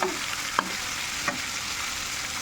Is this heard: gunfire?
no